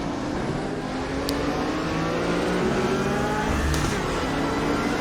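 GT3-class race car in the RaceRoom racing game, its engine droning steadily with shifting pitch as it revs through a lap, continuous and fairly loud with no talk.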